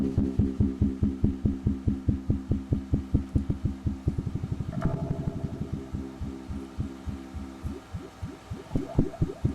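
Throbber synth effect from a Line 6 FM4 filter modeler pedal, a loud pulsing tone with a steady, fast rhythmic throb that shifts pitch midway and continues alone without talking.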